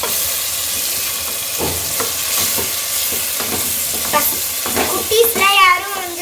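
A paneer biryani mixture stirred in a hot pan gives a loud, constant sizzle with scraping spoon strokes throughout, which grow stronger and squeal toward the end.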